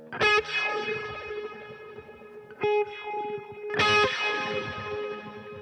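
Three struck electric guitar chords through a Boss MS-3 delay effect, each trailing into repeating echoes that decay slowly, with a distorted, shimmering tone and no voices.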